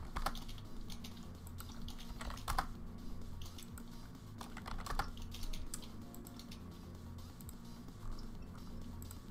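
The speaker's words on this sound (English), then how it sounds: "This loud keyboard has got to go." Close, loud clacking from a computer keyboard at a Dungeons & Dragons 5e game table, typed in irregular runs with a few sharper key strikes, over a constant low hum and with no voices.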